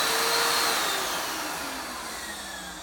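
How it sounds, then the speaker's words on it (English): A Filter Queen Majestic vacuum motor runs with its top section removed, a close, loud whining whir that slowly winds down in pitch and volume. "Now this motor will still continue to run."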